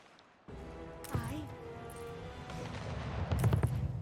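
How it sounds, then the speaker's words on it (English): Ship cannons firing in the Anno 1800 game, heard as a run of booming shots under a busy mix of game music, with a heavier burst of fire near the end. "luckily my cannons over here are doing some work"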